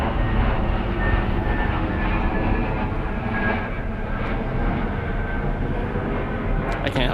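An airplane roars overhead in a continuous, loud broadband drone that holds steady throughout, with no talking.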